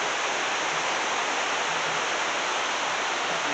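A river seen from above runs steadily with foam on its surface, giving a dense, even rush of water that holds constant throughout, with no voices.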